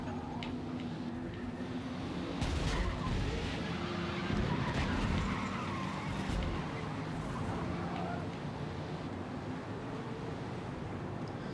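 Race cars roaring and jostling in Forza Motorsport, a dense continuous wash of engine noise with tyre scrubs and occasional bumps, heard at low level throughout.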